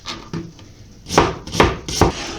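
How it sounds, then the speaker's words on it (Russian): A knife chops onion into small cubes on a cutting board, giving a few light taps and then a run of firmer, evenly spaced thuds close by. "Лук мы нарезаем мелким кубиком"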